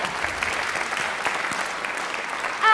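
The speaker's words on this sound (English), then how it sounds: "let's give them a clap" An audience at a London Symphony Orchestra relaxed lunchtime concert claps steadily, an even, fairly loud spread of applause filling the hall.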